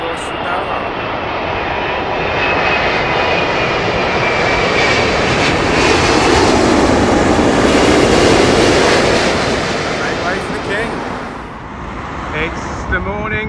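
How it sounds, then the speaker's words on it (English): A Qatar Airways Airbus A380 arriving from Doha to land at Heathrow Airport, its four engines roaring loud and close as it passes, swelling toward the middle and then fading. "The Qatar A380 coming in course from Doha."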